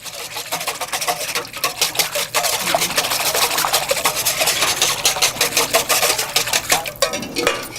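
Whisking honey into a vinegar-based salad dressing in a bowl, a steady close clatter of whisk against the bowl running throughout, with a voice talking over it.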